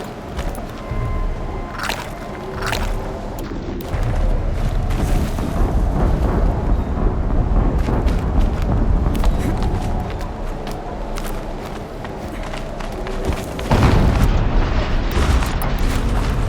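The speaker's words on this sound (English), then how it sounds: "An explosion." Heavy explosions boom and rumble through a Horizon Zero Dawn battle, a dense, continuous roar of blasts and debris that swells loudly near the middle and again toward the end, with no clear talking.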